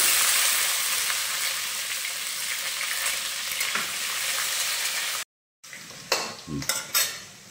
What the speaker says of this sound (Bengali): এবার দিয়ে দিলাম কুচিয়ে রাখা পেঁয়াজ